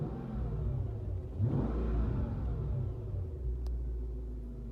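Car exhaust with the cutouts closed, a low steady engine rumble that swells briefly as the engine revs, then settles back to an even idle drone at moderate volume with no talking.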